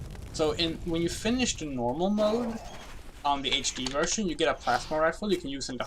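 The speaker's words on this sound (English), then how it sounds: "I'm sorry about the birds outside being annoying." Pigeons cooing outside during a Jurassic: The Hunted speedrun commentary, soft repeated coos faintly behind continuous close male speech.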